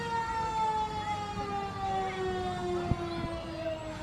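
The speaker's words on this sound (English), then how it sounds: "Now entering the area is Citizens Ambulance Service." An ambulance siren wailing at a parade, a long steady tone slowly falling in pitch with a sustained, fairly loud presence and a brief knock near the end, no speech.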